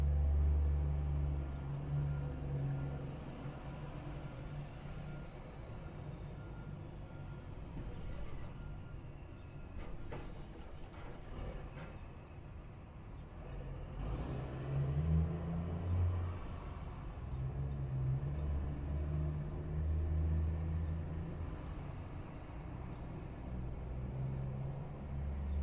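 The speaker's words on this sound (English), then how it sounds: "Y'all hear that Kenworth?" A Kenworth truck engine rumbles low and steady from inside the cab, swelling and easing over time under faint road noise.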